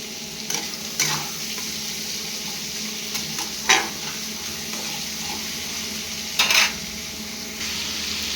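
Onions fry in a pan with a steady soft sizzle, broken by a few sharp clinks and scrapes of a stirring spoon, close and fairly loud with no talk.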